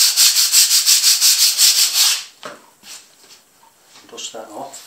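Light hand sanding over dried B.I.N primer that was used to block stains: a quick run of steady, scratchy back-and-forth strokes, then softer, scattered scuffing and rubbing, close and loud.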